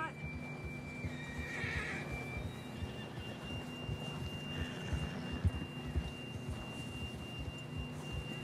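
A horse whinnies loudly near the start in Red Dead Redemption 2, over a low hum with steady hoof clip-clops and faint background voices.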